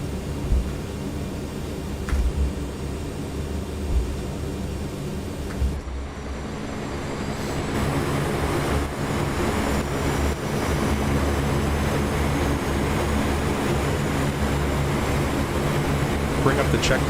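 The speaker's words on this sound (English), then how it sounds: "And finally, let's start engine 1." Engine 1 of a C-130J in the DCS flight simulator spins up from a steady cockpit hum into a louder, rising turboprop whine and roar. The sound builds and then holds continuously for the rest of the stretch.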